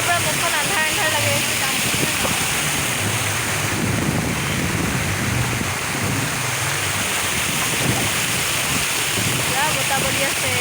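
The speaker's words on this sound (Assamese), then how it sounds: "বতাহ বলি আছে একেবাৰে।" Wind gusts across the open grounds of Eco Park in Kolkata toward evening, a constant rushing roar buffeting the microphone, with people chatting faintly underneath.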